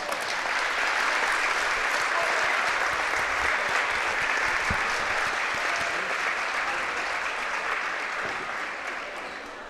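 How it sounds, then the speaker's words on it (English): An audience at a high school boys basketball game between Triway and West Holmes claps steadily for about ten seconds, sustained applause that fades slightly toward the end, with faint voices beneath. "Give her a round of applause."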